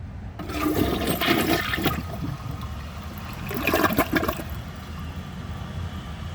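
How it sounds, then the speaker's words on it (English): A Glacier Bay high-efficiency toilet flushes with a loud rushing surge, two swells of water noise about two seconds apart, then settles into a steady refilling hiss, close by with no voices. "I'm gonna give this another flush and see if it can take the shadow off of the bowl"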